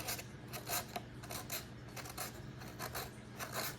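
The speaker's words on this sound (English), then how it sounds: "You see, I just use sandpaper on it. And it smooths out all the rough edges." Steady rhythmic rasping of sandpaper rubbed by hand over a piece of walnut wood, with repeated back-and-forth strokes at an even pace over a low background hum.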